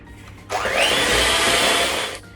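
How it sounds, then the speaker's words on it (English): Electric hand whisk beating room-temperature softened butter, switching on with a rising whine into a loud steady buzzing drone for under two seconds before cutting off. "I'm going to beat that with an electric whisk until it's lovely, light and fluffy"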